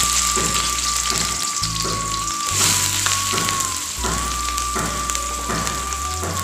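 Chopped onion hits hot oil in a pan for a fish curry and crackles into a loud, continuous sizzle, close by and steady, with a faint tonal hum beneath and no speech.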